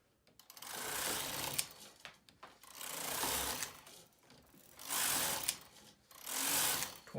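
A knitting machine's carriage is pushed back and forth to knit rows on a ribber setup, each pass a loud rushing mechanical whir that comes in repeated bursts with short pauses between.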